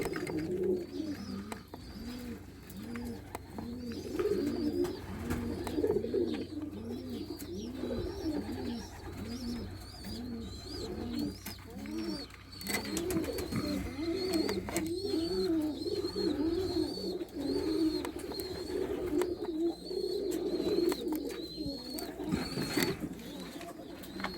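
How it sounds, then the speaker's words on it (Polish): Racing pigeons returning from a 350 km competition flight from Stargard, Poland coo in repeated soft, throaty phrases, several birds overlapping steadily, with faint background noise and occasional knocks. "mieszane gołębie idą, wiesz?"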